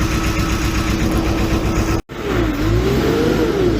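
New Holland LB115.B backhoe loader from 2008, with a knocking diesel engine, runs loudly, cuts out briefly, then restarts and revs with rising and falling pitch, close and continuous.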